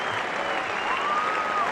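A Headingley cricket crowd applauds as England batter Ben Duckett raises his bat after being caught during a Test against India, a broad, steady wash of clapping from the stands with no break.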